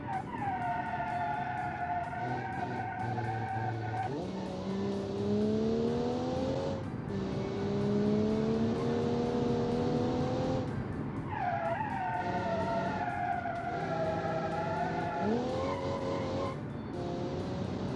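Aston Martin GT car driven in BeamNG Drive, its engine note rising and falling through repeated gear sweeps, with tire squeal layered over a steady loud driving sound.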